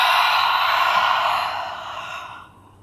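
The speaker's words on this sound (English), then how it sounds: "So a big inhale through your nose and an exhale out the mouth." A single cleansing breath is drawn in through the nose and let out through the mouth during a yoga stretch. The airy whoosh comes close and clear, then fades to silence.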